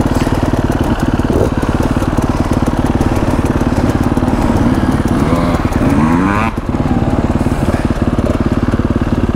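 A four-stroke enduro motorcycle engine runs steadily nearby, a loud, even, rapid thumping throb sustained throughout with a brief dip near the end, and a voice faintly underneath.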